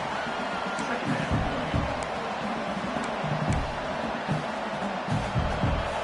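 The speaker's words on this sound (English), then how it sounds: "Listen to the crowd energy here in the early going." A steady roar of a large football stadium crowd fills the air, a dense wash of noise with occasional low swells but no sharp cheering peaks.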